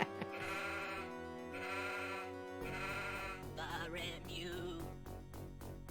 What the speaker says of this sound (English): Oh, right, the sheep. Can you click on a sheep?